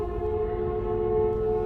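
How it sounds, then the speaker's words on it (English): A sustained, droning siren wail in the video game Project Zomboid holds a steady pitch over a low rumbling background, briefly and without any voices. "then the sirens started again"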